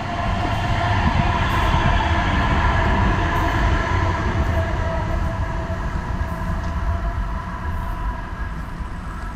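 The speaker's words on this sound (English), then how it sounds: "Now that the rail train has gone by" A light rail train rolls past on the Charlotte Rail Trail, a loud steady rumble and metallic rolling roar close by, holding throughout with faint high clicks.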